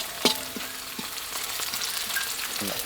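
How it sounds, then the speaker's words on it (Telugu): Onions and green chillies frying in oil in a pan for a curry-leaf chicken fry, a steady close sizzle broken by a sharp utensil clink and several stirring taps, with no talking. "ఉల్లిపాయలు ఈ విధంగా వేగాక పచ్చిమిర్చి వేసేసుకుందాం"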